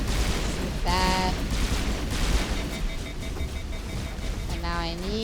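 Sustained gunfire in a Mass Effect firefight, dense and continuous with a noisy wash throughout, while voices and tonal game sounds cut in briefly over it.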